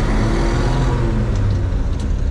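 A 1950 Chevrolet 3600 pickup pulls away in its low first creeper gear, a loud, steady low engine rumble with road noise, close and continuous.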